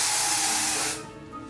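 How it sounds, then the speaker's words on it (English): Aerosol product sprayed into the inside of a wig cap makes a single, close, loud hiss lasting about a second, then cuts off to quiet room tone. "I'm gonna spray the inside of the cap."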